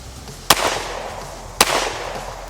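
Two sharp gunshots from a Springfield Hellcat pistol crack about a second apart, each loud and close with a short echoing tail, and nothing else is heard.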